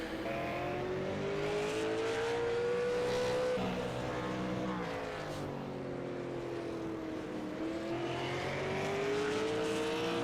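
Asphalt super late model race cars complete a lap at a bullring oval, engines holding a loud, steady roar with pitch rising and falling as the pack circles, close by and continuous with no talk.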